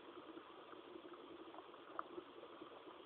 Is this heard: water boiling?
yes